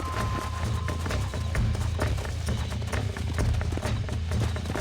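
Steady clip-clop of horse hooves trotting at a brisk, even rhythm in the video game Red Dead Redemption, fairly close, over a continuous low rumble.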